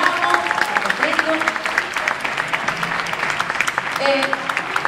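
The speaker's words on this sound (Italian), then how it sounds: "Facciamo un bel applauso, ci scaldiamo, prego." An audience claps in a dense, continuous patter while a voice speaks over it and a crowd murmurs in the background.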